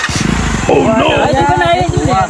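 A motorcycle engine is started and settles into a rapid, even putter, heard close beneath loud overlapping talk.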